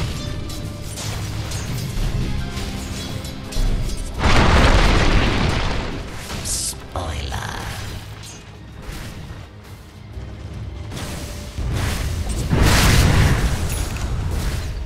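Explosive booms and crashes from a Dota 2 match as the Radiant bottom tower comes under attack, with a dense layer of game effects and music throughout and louder bursts recurring at intervals.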